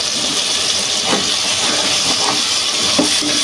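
Steam hisses steadily from a pot of Telugu fish curry (kana ganthalu chepala pulusu) as the lid comes off, a continuous, fairly loud breathy rush with faint kitchen clatter beneath it.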